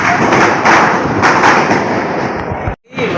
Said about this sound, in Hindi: मेरी मम्मी भी पटाखे ऐसे फोड़ रही है भाई